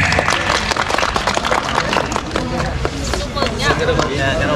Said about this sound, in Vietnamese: đề nghị cho một tràng pháo tay ạ